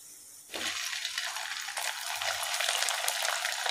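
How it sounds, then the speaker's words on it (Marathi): Sabudana fries deep-frying in hot oil: after a quiet start, a loud bubbling hiss bursts in suddenly and keeps crackling steadily close by, with a light clink partway through. "असेच आपण सर्व फ्राईज तळून घेऊया।"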